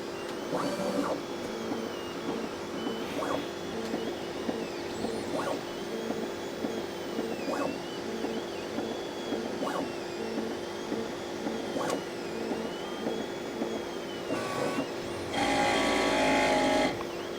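A Bambu 3D printer at work mid-print, with a steady mechanical whir, rhythmic motor pulses and gliding stepper tones at regular intervals, then a louder burst of fan-like noise near the end.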